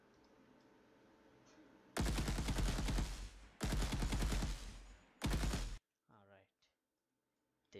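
Automatic gun with recoil firing in an Unreal Engine third-person shooter game, three loud sustained bursts of rapid shots separated by short pauses, followed by a few faint clicks near quiet.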